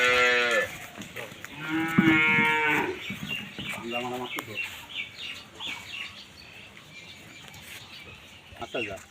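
Dairy cows being walked on a farm, several long, loud moos in the first half followed by quieter shuffling and ambient noise, with faint birds and hens in the background.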